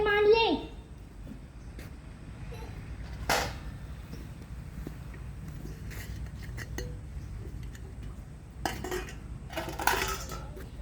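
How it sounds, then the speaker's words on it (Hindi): Dishes being washed in a Hindi school stage play: pots, pans and utensils clink and clatter in sharp, scattered bursts while voices talk over them. "कपड़े धो ले, बर्तन मांज ले"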